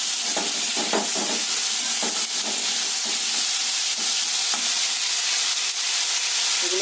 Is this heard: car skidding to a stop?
no